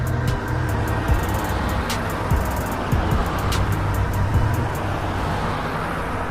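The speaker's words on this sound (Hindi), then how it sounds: "बुल्ली और बाबा गाड़ी में बैठकर सोम को बचाने के लिए निकल जाते हैं।" A jeep drives off in an animated horror story, a steady, fairly loud engine drone with rhythmic ticking on top and no speech.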